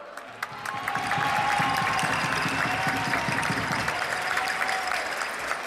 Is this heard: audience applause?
yes